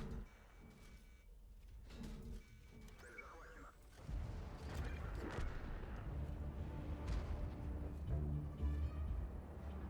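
A heavy artillery blast booms out in a video game on the Hills map, followed by sustained rumbling and crashing in a busy battle soundscape.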